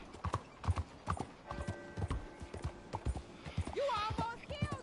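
Horse hooves clip-clopping in Red Dead Redemption, a steady rhythmic trot of hoof beats, with a brief whinny toward the end and game voices and a narrator speaking over it.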